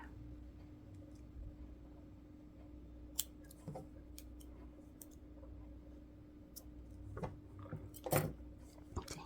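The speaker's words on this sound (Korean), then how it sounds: "이렇게도 바짝 잘라주세요" Scissors snip crochet yarn close to a small crocheted tulip, giving several sharp, quiet clicks and snips scattered over a faint steady hum, with a busier cluster of cuts near the end.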